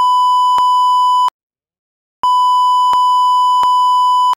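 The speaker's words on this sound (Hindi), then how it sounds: "किन्ना बीप करना पै रहा भाई" Censor beeps cover swearing in a Punjabi travel vlog about a trip from Chandigarh to Dubai: a loud, steady pure tone runs for over a second, breaks off, then returns for about two more seconds.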